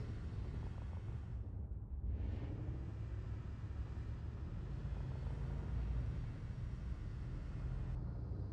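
Spaceship landing gear deploying in Elite Dangerous Odyssey during a carrier docking: a steady, loud mechanical rumble and whir with a brief dip near the two-second mark, continuing unbroken throughout.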